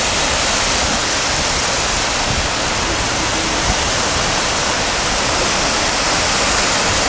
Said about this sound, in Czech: Já jsem tady schválně nechal to moře šumět a nekomentoval jsem to.